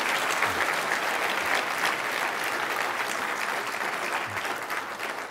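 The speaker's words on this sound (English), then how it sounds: "A huge round of applause for a phenomenal body of work." Audience applause after a healthcare conference talk: a dense, even wash of clapping from a large crowd, loud and sustained throughout and tapering slightly at the end, with no speech over it.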